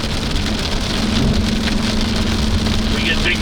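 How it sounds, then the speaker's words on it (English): Big hail pounds a car during a violent tornado near Whitman, Nebraska, a dense, loud, constant roar of impacts on the vehicle with a low hum underneath. "We get big hail"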